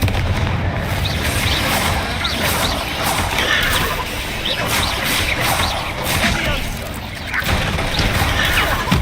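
Explosive spell blasts from Hogwarts Legacy combat: a rapid, continuous barrage of booming bursts and crashes, loud and dense, with hardly a gap across the whole stretch.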